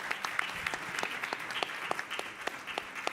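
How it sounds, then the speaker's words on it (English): Audience applause at a public hearing on reparations, a modest round of scattered hand claps with distinct individual claps, fairly quiet and steady throughout. "Please give them a round of applause."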